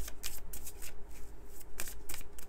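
Tarot cards being shuffled by hand at close range, a run of quick papery riffling bursts in an uneven rhythm, crisp and fairly loud with no talking.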